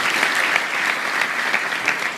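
A church congregation claps together, a loud, sustained wash of applause with rhythmic swells, close and filling the room.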